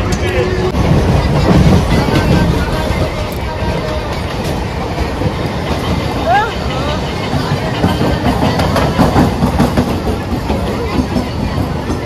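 Interior of a moving train with a steady loud rumble and rhythmic wheel clatter, crowd babble and passengers talking throughout.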